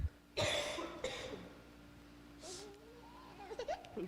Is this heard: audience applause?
no